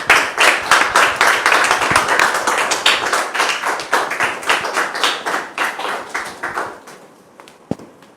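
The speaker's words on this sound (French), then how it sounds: "Sous vos applaudissements, s'il vous plaît." A small audience claps for arriving guests, individual claps distinct and rhythmic, strong at first and then thinning out and fading to a few scattered claps.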